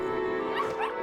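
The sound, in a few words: stray dog barking in RuneScape video game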